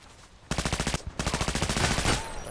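A Vikhr assault rifle fitted with scope, silencer and muzzle brake fires in a video game, two sharp bursts of rapid fully automatic shots, the second burst longer, with no talking.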